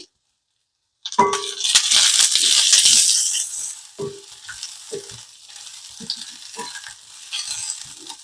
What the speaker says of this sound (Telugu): ఇవన్నీ కొంచెం స్మెల్ స్టార్ట్ అయ్యి చిట్పట్లాడుతూ ఉంటే కొన్ని ఉల్లిపాయలు వేసుకుందామండి